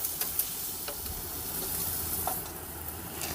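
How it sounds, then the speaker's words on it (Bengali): Pointed gourd fries in a pan with turmeric, a close, steady sizzle with faint crackles and occasional light stirring clicks. "এরকম করে আমি পটলটা ভেজে নেব।"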